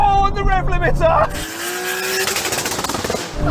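A turbocharged Toyota Supra TRD sports car engine screams up through the revs and bounces off the limiter in rapid stuttering bursts, with excited talking over it.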